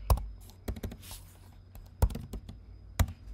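Computer keyboard keys clicking as a password is typed on a client machine, a few irregular taps in short bursts, close and fairly quiet with no talking.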